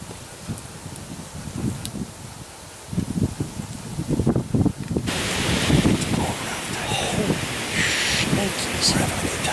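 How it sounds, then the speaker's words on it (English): Strong wind gusts roar and buffet the microphone at a Michigan bowhunting camp, growing louder and more constant partway through, with rustling and low rumbling noise throughout. "Awful darn windy though."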